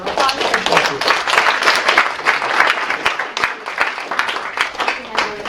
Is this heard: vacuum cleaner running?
no